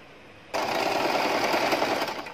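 A sewing machine stitches the side seam of palazzo pants, starting abruptly after a quiet half second and running in a steady, close, loud mechanical whir to the end.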